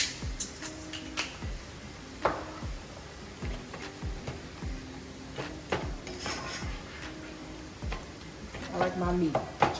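Ground meat cooks in a pan with seasonings. A utensil scrapes and knocks against the pan repeatedly over a light sizzle, close by, while a person talks at times.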